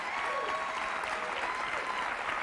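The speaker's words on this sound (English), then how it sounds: "What a spontaneous applause." A television studio audience breaks into even, sustained applause, a continuous wash of many hands clapping at moderate level without pause and without voices over it.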